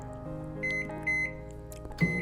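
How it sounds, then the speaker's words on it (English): A microwave oven hums steadily while heating bottled water in a cup for tea, with a few short high beeps near, the last one sharper and louder. "so I basically just pour bottled water into my cup, stick it in the microwave"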